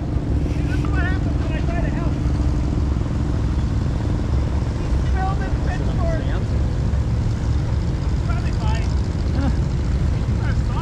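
A steady, loud mechanical rumble of a steam engine running a threshing machine at a threshing display, with voices talking over it throughout.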